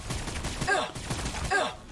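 Necron immortals open fire in Warhammer 40K Battlesector, two bursts of rapid synthetic energy-weapon shots about a second apart, with a faint voice underneath.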